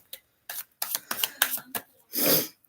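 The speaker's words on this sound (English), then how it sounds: "Last shuffle here." Tarot cards are shuffled by hand in a series of quick, crisp riffling bursts, faint and close, ending in a longer softer whoosh of cards.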